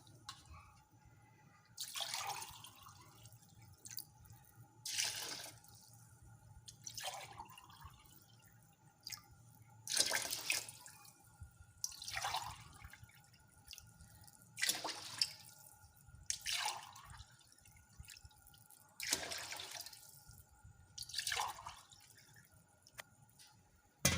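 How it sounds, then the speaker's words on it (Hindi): Water splashes and trickles in a series of separate pours, six glasses into a cooking pot for beef biryani, each a short burst of liquid hitting liquid, with quiet pauses between them. "ये मैं पानी डाल रही हूँ 6 गिलास।"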